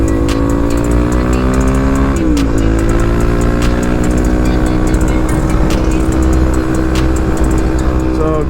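Suzuki DR-Z motorcycle engine holding steady revs at highway speed around 115 km/h, a loud continuous drone with a brief dip and recovery partway through, wind rushing over it.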